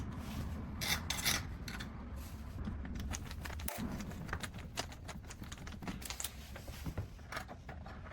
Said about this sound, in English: Now I secure the exterior and interior parts together using these long screws that came with the